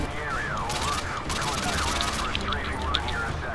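Rapid gunfire from the video game Modern Warfare 2 Spec Ops, a dense continuous fusillade with a wavering siren-like tone weaving through, loud and sustained throughout.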